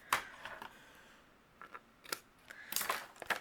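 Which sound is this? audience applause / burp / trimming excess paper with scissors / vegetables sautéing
trimming excess paper with scissors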